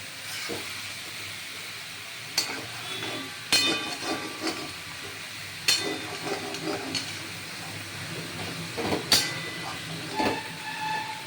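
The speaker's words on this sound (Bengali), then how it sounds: "দেখুন এই লাউটা নেড়ে চেড়ে" Bottle gourd cooks in a hissing, steaming pan, broken by occasional sharp spoon clacks and scrapes as it is stirred, with quieter stretches between strokes.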